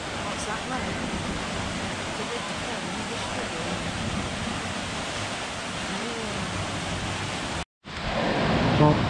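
Waterfall and a small stream running full of water, heard as a steady broadband rush that fills the whole clip, close and constant, with a brief dropout near the end before the rushing resumes.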